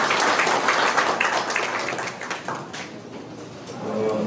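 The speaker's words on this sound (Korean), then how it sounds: "박수로 환영해 주시기" Seminar audience at the National Assembly clapping to welcome a lawmaker, a dense, loud burst of applause that tapers off over a few seconds.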